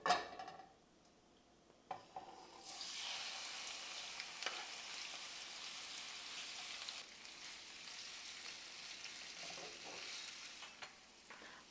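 A steady sizzle of tofu frying in a little hot olive oil in a pan, a continuous crackling hiss that holds moderately loud, with a few faint clicks of a utensil.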